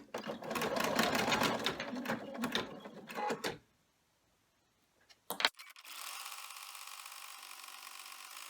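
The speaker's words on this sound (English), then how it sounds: "we can take it back to the machine, and it will be running the final stitch to hold these two pieces together" An embroidery machine sews the final stitch on an in-the-hoop ID badge holder, first in quick bursts, then silence, then a steady running hum.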